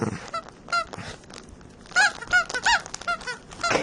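A dog's squeaky toy squeaks in rapid bursts, a few early then a dense cluster of sharp, close, loud squeaks, with no talking over them.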